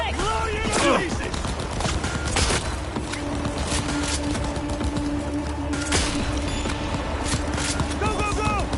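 Rapid gunfire from the video game Cyberpunk 2077 rings out in dense bursts across the clip, layered with other game sounds and voices.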